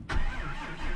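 A cold engine in a shop turns over and catches in under a second, a loud close burst that settles straight into a rough, steady running rumble.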